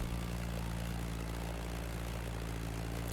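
Airplane flying over the Motorfest playground on O'ahu in The Crew Motorfest game, a steady droning engine hum with constant low propeller tones, sustained and unbroken throughout with no voices.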